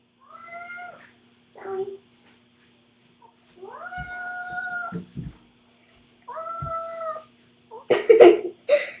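A one-year-old purebred point Siamese kitten gives several drawn-out, nasal meows close by, spaced apart across the stretch, with a brief spoken word near the end and some rustling.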